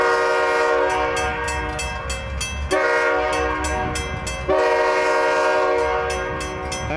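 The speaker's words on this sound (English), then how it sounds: "There's some really old CNW boxcars." A freight train with old 40-foot CNW boxcars rumbles steadily past nearby in Fremont, Nebraska, with rhythmic clanking of cars and a sustained horn blaring in long blasts over the rolling noise.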